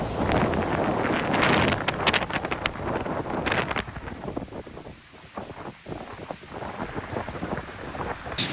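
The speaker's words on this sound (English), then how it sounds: "that wind and that sound you can hear is a beach" Strong wind and waves at a beach in Malaysia, a loud rushing roar of wind noise over the microphone with surf washing underneath, easing slightly in the second half.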